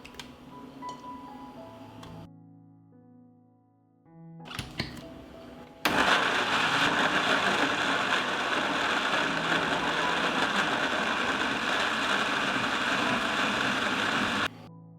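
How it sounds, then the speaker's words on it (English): Kitchen blender grinding sliced tomatoes, a loud steady roar starting abruptly after a few quiet clicks and a brief burst, running continuously for about nine seconds before cutting off. "I will grind the sliced tomatoes in a blender."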